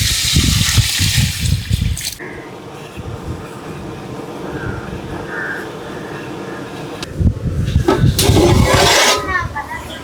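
Water gushes and pours into a pot of tomato gravy for prawn biryani, a loud splashing rush at the start and again near the end, with a quieter stretch between and a voice talking over it.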